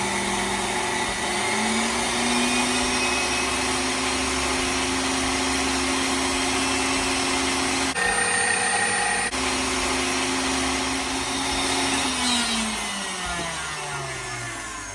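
A KitchenAid stand mixer runs with a steady motor whine and hum, holding speed with a brief shift in the middle before winding down toward the end; moderately loud and close, with no talking.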